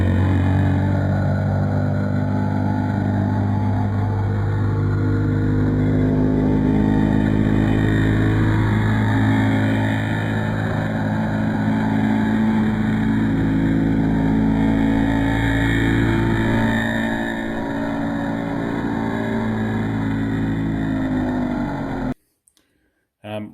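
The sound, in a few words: Tamiya TGM-02 nitro RC car running with FS18 engine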